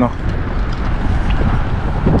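Strong wind buffets a GoPro microphone held near the face on an outdoor walk, making a close, low rumbling roar under a speaking voice.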